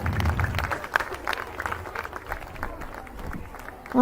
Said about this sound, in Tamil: கரகோஷம் எழுப்பி நமது குழந்தைகளை ஊக்குவிக்குமாறு கேட்டுக்கொள்கிறோம்